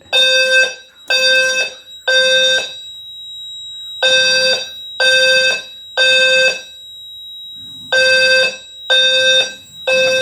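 A fire alarm sounder shaking its back box during a June fire alarm and emergency systems test gives loud, close, evenly spaced electronic horn blasts in groups of three, with a steady tone between groups.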